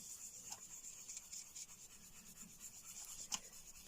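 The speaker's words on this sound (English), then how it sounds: "I'm just going to use my soft tool, to be honest. Just going to rub it on there" Soft pastel rubbed onto paper with a soft applicator tool, a faint, continuous dry scrubbing with small irregular strokes and one brief sharper scrape near the end, alone without talk.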